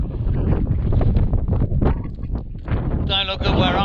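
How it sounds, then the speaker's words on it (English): Strong wind in the Yorkshire Dales buffets the microphone in a continuous roar, with a brief whistling tone near the end. "it's pretty windy though"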